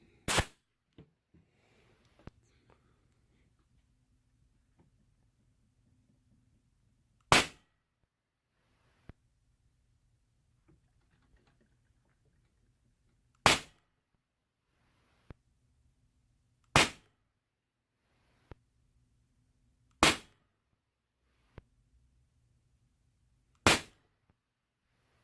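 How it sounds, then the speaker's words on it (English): A DrozdMax air gun fires lead rounds from a 30-round magazine, six sharp isolated cracks spaced several seconds apart in a quiet setting, with a faint hum between shots. "put some lead rounds in the 30 round magazine just to see what it'll do"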